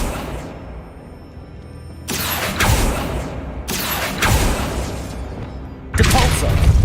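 Accio summoning spell cast in Hogwarts Legacy, heard as a series of loud whooshing magical bursts with booming low thuds, three distinct blasts arriving about every two seconds over a low game rumble.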